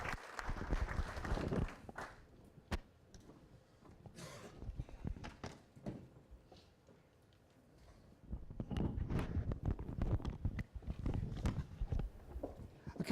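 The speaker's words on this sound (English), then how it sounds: "let's please give Michelle a round of applause" A conference audience applauds after a presenter at a 2018 microcredentials event, with bursts of clapping at the start and again later, separated by a quieter lull.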